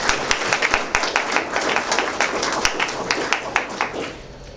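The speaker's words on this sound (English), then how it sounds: "if we could just give her a round of applause" Conference delegates clap for a thank-you at a medical research gathering, a moderately loud, uneven patter of individual hand claps that stays close and steady before tapering slightly at the end.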